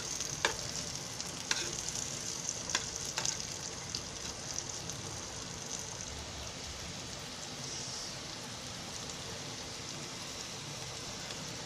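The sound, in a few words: bitter gourd (karela) and potatoes frying and being stirred in a pan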